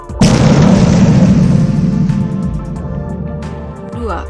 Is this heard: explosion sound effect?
yes